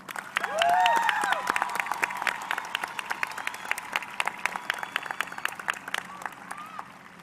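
Audience applause at a 2021 graduation ceremony as students stand to be recognized: sustained, moderately distant clapping with crisp individual claps throughout, a few whistles and cheers rising early, then tapering toward the end.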